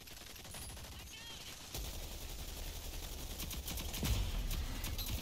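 Automatic turret fire in the shooter game Rogue Company: a dense, continuous stream of shots kicks in partway through and rattles on steadily to the end, with voices faintly underneath.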